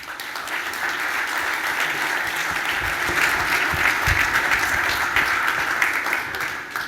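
Sustained audience applause welcoming a speaker at a corporate event, a thick, even wash of clapping from a large crowd that holds steady for the full seven seconds with no talk over it.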